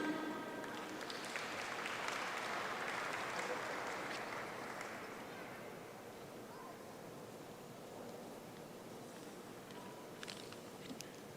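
Broad, steady applause from a large graduation ceremony audience for Master of Science in Finance graduates, a dense continuous wash of clapping that eases slightly partway through.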